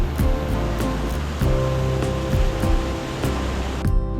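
The grey-white Enguri River in Svaneti, Georgia, rushes fast over rocks, making a continuous loud roar of churning water with faint intermittent ticks and knocks layered over the steady wash.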